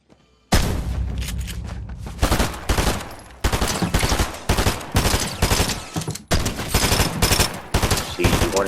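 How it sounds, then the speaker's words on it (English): Rapid video game gunfire from Fortnite aim training while shooting at a bot, with loud bursts of shots separated by brief pauses, close and dense. "See how I'm headshotting it like every single time?"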